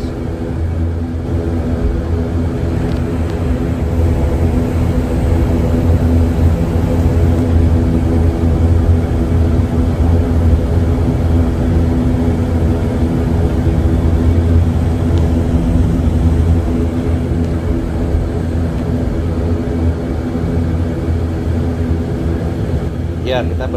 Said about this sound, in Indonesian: Pesawat memutar untuk persiapan lepas landas.